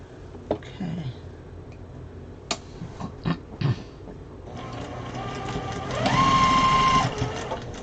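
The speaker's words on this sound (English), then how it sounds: "now we'll sew the other 2 on" A sewing machine stitches quilt pieces, starting after a few clicks and handling noises, then running in a steady close whir that speeds up briefly before slowing.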